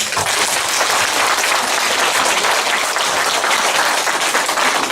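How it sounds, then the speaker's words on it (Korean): At an environmental service award ceremony and general meeting in South Gyeongnam, a large audience bursts into loud, dense, sustained applause that holds steady throughout. "특별히 박수 한번 보내주세요."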